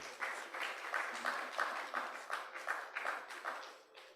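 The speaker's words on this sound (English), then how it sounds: "Please, another round of applause for them." A summit audience applauds, a lively burst of many hands clapping with a loose, pulsing rhythm that fades near the end.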